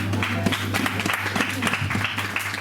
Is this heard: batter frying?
no